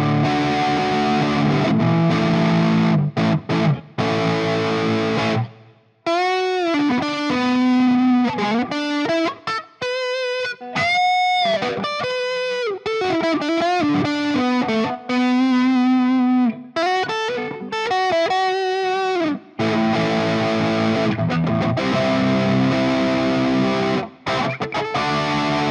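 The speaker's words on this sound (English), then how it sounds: "okay, so a little bit of distortion." An inexpensive electric guitar played through a distortion effect gives loud, crunchy chords at the start and end, with sustained, bending single-note lines in the middle, close and alone.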